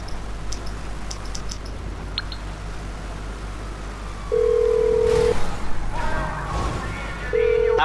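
A phone in GTA 5 Online dials Lester: short beeping tones, then steady dial tones sustained in two stretches, heard over a constant low rumble of game ambience.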